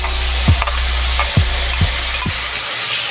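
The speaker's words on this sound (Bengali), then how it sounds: "আমি একটু নেড়ে চেড়ে নেব।" Cumin and ginger paste frying in a pan while being stirred, a loud bubbling sizzle over a low hum, with four spaced thuds of the spoon against the pan, no speech.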